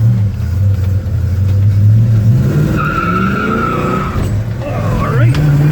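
A black 1967 Pontiac GTO with a four-speed accelerates hard while the driver power shifts, the engine note rising and dropping through the gears with steady loud road noise, the wipers sweeping and a tire chirp or skid showing.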